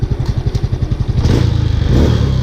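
A Honda Wave 110i motorcycle with a broken crankshaft end shaft putters loudly at close range, its rhythmic idle quickening into a faster, denser chug as it is put into gear.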